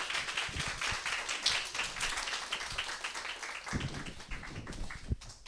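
Audience at a Korean morning lecture claps to welcome a guest speaker, moderate scattered clapping with a few sharper individual claps standing out.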